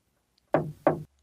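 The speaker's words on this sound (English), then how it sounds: "Suddenly, they heard a knock at the door." Two firm knocks land on a wooden door, close and distinct, spaced about a third of a second apart, with silence before and after.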